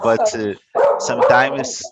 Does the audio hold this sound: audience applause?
no